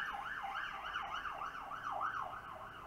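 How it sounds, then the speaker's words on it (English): A wailing siren rises and falls in a steady repeating cycle, moderately distant, with faint road noise beneath. "I really hate sirens, by the way."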